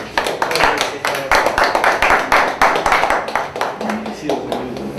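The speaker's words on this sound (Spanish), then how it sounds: "Un aplauso." Applause and scattered clapping at a church service, loud and dense, with voices mixed in throughout.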